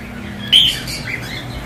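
A pair of breeding lovebirds at a bustling Tongi bird market gives a single sharp, bright chirp close by, followed by softer faint chirping over a steady low hum of market background.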